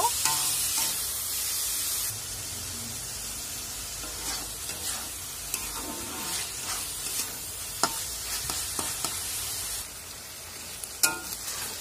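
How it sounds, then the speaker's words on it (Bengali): Chicken filling for khasta kachori sizzles in a pan as a spatula stirs it, with a steady frying hiss and scattered scraping clicks, close and clear with no talking. "এবার হালকা নেড়ে চেড়ে একটু ভেজে নেব।"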